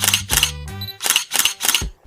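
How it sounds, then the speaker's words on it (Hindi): Several sharp camera shutter clicks fire in a quick irregular burst from a camera hidden inside a home wardrobe, each click crisp and close, with a brief electronic tone between them. "अलमारी के अंदर कैमरा ऑन होकर उनका फोटोज खींचा"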